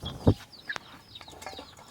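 Chickens around a plate of bran outside their coop, with a few soft clucks, one sharp short call and light scattered pecking, close and fairly quiet.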